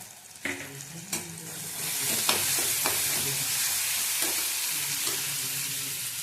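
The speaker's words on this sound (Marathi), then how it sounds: "आता हे मसाले चांगले भाजून घेऊया आपण आले लसणाची पेस्ट आहे" Masala spices with chilli powder and ginger-garlic paste roasting and sizzling in a pan for dry prawn masala, with a steady frying hiss and a few stirring scrapes and clinks, close and alone.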